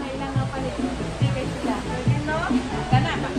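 Strong rush of a waterfall in full, heavy flow with brownish water near a cottage, a steady broadband roar filling the whole moment while voices talk over it.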